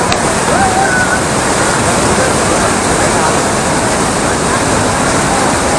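Waterfall at Koduveri in Sambro, a loud, steady rushing roar of falling water that fills the whole stretch without a break, close by.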